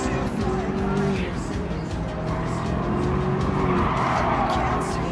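A Subaru WRX race car races in Gran Turismo 7, its engine droning along with tire squeal and skidding, while a voice talks over the game sound.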